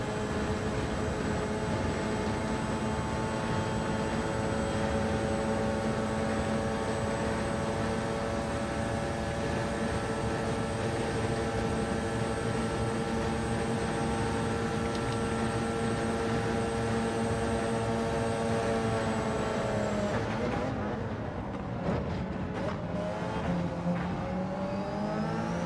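Race car engine in the Gran Turismo 7 video game, a steady loud high-revving drone held in another car's slipstream, sustained for about twenty seconds before the pitch shifts and drops as the car lifts off near the end.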